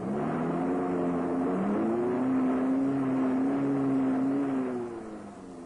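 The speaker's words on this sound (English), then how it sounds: "Sudden bursts of power cause the wheels to spin, and the vehicle digs deeper into trouble." A Land Rover engine revving hard and steadily in four-wheel drive as its wheels spin and dig into sand, loud and sustained with a rising and wavering pitch, then easing off near the end.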